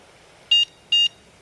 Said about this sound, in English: strange beeping noise.